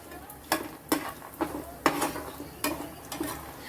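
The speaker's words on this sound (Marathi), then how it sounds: "छान असं मस्त भाजून घ्यायचंय गॅस बारीकच ठेवायचा आपल्याला" Makhana roasting in ghee in a pan over low heat, with soft stirring scrapes and a few sharp clinks of a spoon against the pan every half second or so over a faint sizzle.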